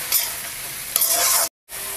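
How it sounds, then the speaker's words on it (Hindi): Onions frying in a pan while being stirred, a steady close sizzle with scraping strokes, briefly cut to silence near the end before the frying resumes. "इसे डालने के बाद इसे चला लेंगे। और इसको थोड़ा सा सॉफ्ट होने देंगे प्याज को।"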